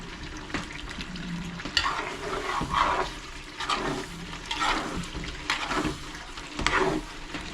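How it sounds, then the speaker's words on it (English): Steady crackling sizzle of curry meat frying in its own rendered fat, with intermittent scraping and stirring sounds, close up and fairly loud, no talking. "So I'm frying this with its own oil."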